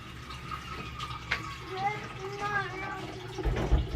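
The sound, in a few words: water running from a faucet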